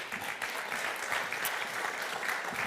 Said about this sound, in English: A warm round of applause, please, both of them.